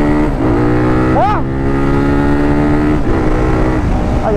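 A Honda CG 150 motorcycle accelerates hard along a city avenue, its engine note rising in a steady loud drone, while a rider talks over it.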